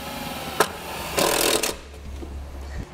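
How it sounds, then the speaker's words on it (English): A power drill bores a hole for a trailer brake controller install in a 2015 Subaru Outback Wagon, a short tap followed by a half-second burst of whirring and grinding that stops, then a quieter hum. "What I'm going to do is I'm going to drill the hole first."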